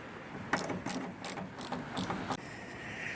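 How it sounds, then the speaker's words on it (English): A ratchet wrench with an 8mm socket loosens a car's brake light mounting bolts, giving six evenly spaced, close, crisp clicking bursts before falling quiet. "we're going to take these 2 mounting bolts"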